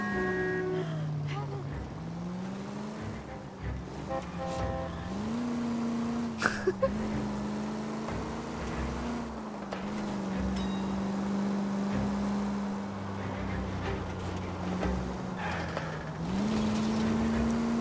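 A car engine drones steadily in the L.A. Noire video game, its pitch rising and falling as the vehicle accelerates and slows, with talk over it throughout.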